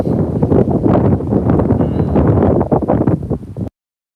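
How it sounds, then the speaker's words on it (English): Wind blows outdoors in strong, buffeting gusts that batter the microphone with loud, rumbling roar for several seconds before cutting off abruptly. "It's just windy."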